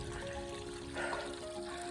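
Water running from an outdoor tap during a run, a soft faint trickle and splash with a brief louder gush midway and no talk.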